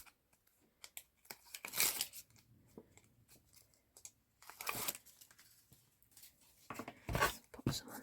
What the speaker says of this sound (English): Just get these bits of tape off.